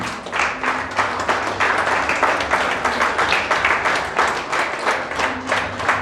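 A church congregation applauds together in steady, rhythmic clapping that pulses evenly throughout, fairly loud and close, with a few faint voices underneath.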